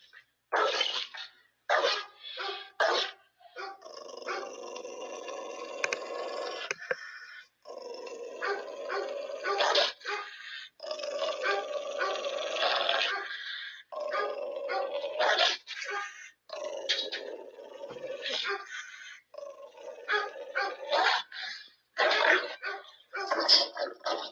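A dog barks and growls in a series of bursts with brief gaps, close and insistent, over a stretch of time without talking.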